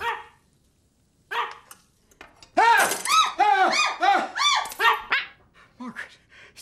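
A dog barks in a burst of several loud, close, high-pitched barks in a film scene, preceded by a few shorter yips, with brief speech nearby.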